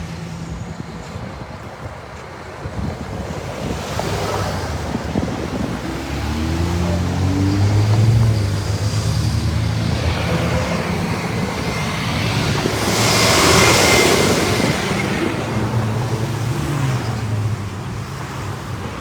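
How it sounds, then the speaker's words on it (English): Road traffic idles and rolls through a busy, complex intersection, a continuous low engine rumble swelling as vehicles pass nearby, with a broad whooshing pass midway and no speech. "we've got just traffic backs up from 6 directions, it seems like"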